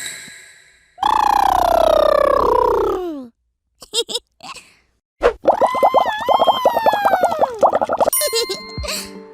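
Children's voices imitating woolly mammoths at a preschool, a run of loud, drawn-out trumpeting calls with sliding pitch, separated by brief gaps and short squeaky bursts.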